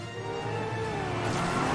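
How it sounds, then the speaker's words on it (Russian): A car engine in the LEGO Batman 2 video game drones steadily and close, slowly rising in intensity as it accelerates, with faint game effects layered on top. "Откуда у тебя машина, Робин, слышишь?"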